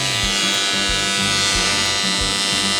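A harsh, continuous electric buzz from a Falcon AC/DC TIG welder at 250 amps on 380V drones loudly and evenly, with a rapid low pulsing underneath and no voices.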